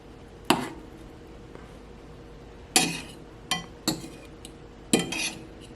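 Cutlery clinks against a plate of baked halibut in lemon butter sauce, about five sharp metallic taps and scrapes at irregular intervals, close and clear against a quiet room.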